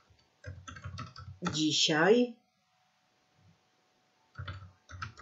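Computer keyboard typing and clicking comes in quick, crisp bursts of keystrokes at the start and end, close and clear, with a person speaking in between.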